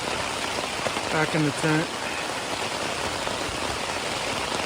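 Heavy rain drums steadily on a tent during a severe Alaskan rainstorm, a dense, loud hiss throughout, with a voice briefly speaking over it near the start.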